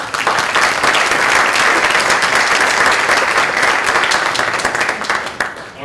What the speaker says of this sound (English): One more round of applause there.